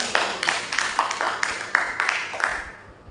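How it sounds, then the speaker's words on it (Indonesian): A small group in a classroom counselling session claps in a steady rhythm of about ten distinct near claps, fading out at the end. "tepuk tangan dulu"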